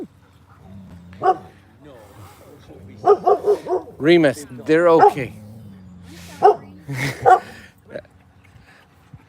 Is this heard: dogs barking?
yes